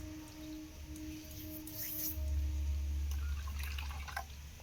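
Warm water is poured into an electric mixer jar while preparing rice batter for chitoi pitha, a soft, faint trickling and splashing that swells midway and continues steadily throughout, with no talking.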